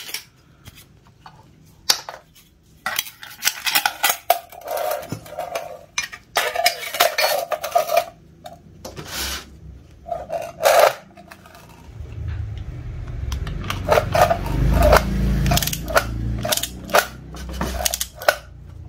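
A wrench tightens a motorcycle swingarm bolt by hand, producing repeated close metallic clicks, clanks and ratcheting taps in irregular bursts, with heavier rumbling clatter of metal parts toward the end.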